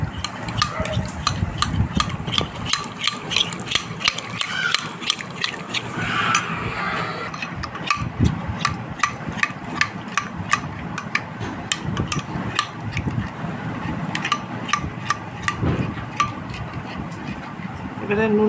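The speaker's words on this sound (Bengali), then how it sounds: "প্রথমে দইটাকে ভালো করে ফেটিয়ে নেব।" Yogurt whisked in a bowl with a steady, rapid clicking and tapping rhythm that keeps going, with a voice talking over it at times.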